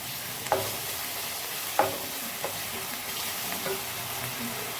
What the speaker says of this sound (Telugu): Around 2 table spoons ginger garlic paste వేయాలి. వేసి ఒకసారి మిక్స్ చేయాలి.